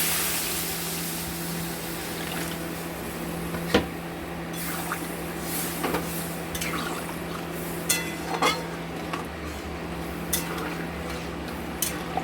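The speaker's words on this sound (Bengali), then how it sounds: "এবার আমরা জল দিয়ে দেবো।" Water is poured into a pan of fried, cooked-down spices for a katla fish curry with potato and taro, a soft hissing flow with scattered small clinks and splashes, fairly quiet and close.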